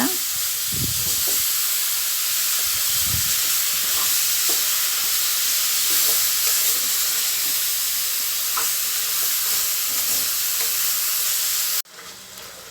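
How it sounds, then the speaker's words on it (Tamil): Intestine pieces sizzle steadily in a hot pan over high heat, with occasional stirring scrapes and clinks. The sizzle stays loud and continuous, then cuts down suddenly at the end. "சேர்த்துட்டு நல்லா வதக்கிக்கலாம் அடுப்பு நல்லா வேகமாக வச்சுக்கிறோங்க"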